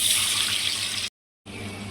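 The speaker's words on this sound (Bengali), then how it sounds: "এবার এতে একটু পানি দিয়ে দেব।" Water pours steadily from a tap-like stream into a hot cooking pan holding oil and green chilies, a loud rushing hiss that cuts off briefly and then resumes.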